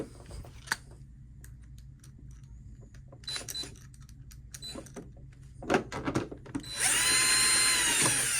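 A power drill drives screws into a plastic cover on a Juki TL sewing machine, whirring in several short bursts, then a longer steady high-pitched whine at the end, with clicks and handling noises between.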